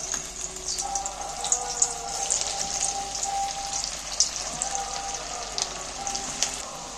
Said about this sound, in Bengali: এইবার আমি তেলের মধ্যে তুলে দিচ্ছি।